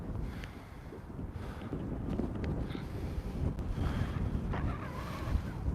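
Strong wind buffeting a microphone outdoors, a continuous low rumbling roar that swells and gusts throughout, loud and close, with no voices.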